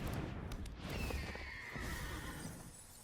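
A horse neighs and whinnies as the Ostrich Horse card enters play in MTG Arena, a loud, steady game sound effect filling the clip without speech.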